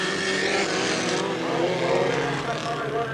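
Class 5 hot rod race cars roar away together at the start of a 1984 All Ireland hot rod race, a loud sustained engine din under a commentator's voice.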